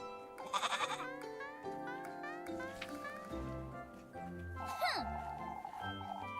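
A goat bleats in a farm setting, a loud wavering cry rising and falling over a few seconds, layered with other animal calls and a background tune.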